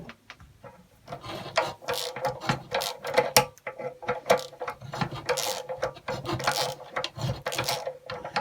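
A handlebar fastener on an old Puch Maxi moped is undone by hand, giving a series of close, loud ratcheting and metallic clicking bursts in an irregular rhythm with short pauses between.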